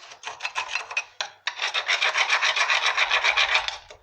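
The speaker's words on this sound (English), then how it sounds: "I want to scrape the gunk off." Rapid rasping scrapes as rusted gunk is scraped off a 2000 Dodge Durango front brake caliper, close and loud, a few short strokes then a long continuous run of quick back-and-forth scraping, no talking.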